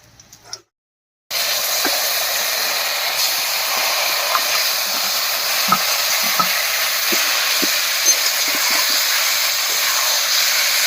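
Taro greens (kochu shak) go into a hot pan with fried brinjal and slit green chillies, a loud, continuous close sizzle with scraping stirs and small crackles after a brief pause.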